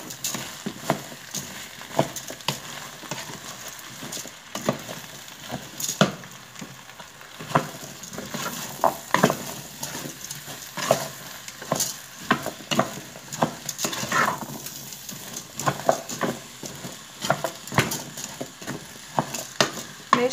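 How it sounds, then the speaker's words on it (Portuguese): Tuscan sausage with canned corn and peas stirred in a pan, a steady soft sizzle broken by repeated scraping clicks of the spoon against the pan, no voices. "Agora eu vou misturar aqui tudo muito bem."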